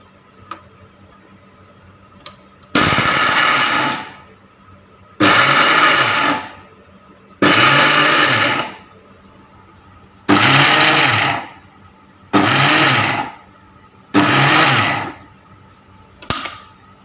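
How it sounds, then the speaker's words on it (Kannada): A mixer grinder pulses peanuts into a dry chutney powder, with six loud bursts of about one to two seconds each, separated by short quiet pauses and a few small clicks. "ಈಗ ಗ್ರೈಂಡ್ ಮಾಡ್ಕೊಳ್ಳೋಣ."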